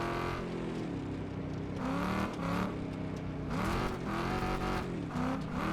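Front-wheel-drive American car in the Wreckfest 2 racing game, engine revving up and down in repeated swells as it slides sideways, with faint tyre scrub and a steady race ambience, no voices.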